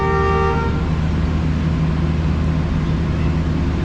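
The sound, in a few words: train departure horn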